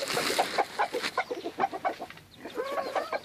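Several hens cluck close by in short, repeated bursts while being fed, an uneven chatter of soft calls with no talking.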